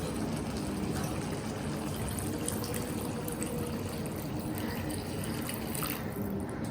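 Water pouring into a pan of potatoes cooking for a rustic aloo paneer sabzi, a steady, moderately quiet trickling and filling sound that runs unbroken the whole time, with no talking.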